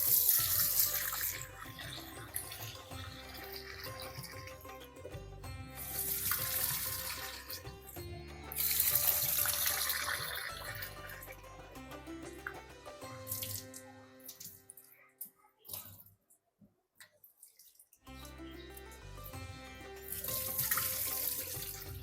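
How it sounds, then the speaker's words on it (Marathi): Tap water runs steadily into a vessel as rice grains are swirled and rinsed, with sloshing and splashes, a short pause, then the flow resumes. "हे तांदूळ पण आपण स्वच्छ धुवून अर्धा तासासाठी भिजत घालूया"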